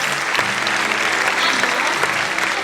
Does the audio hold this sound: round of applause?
yes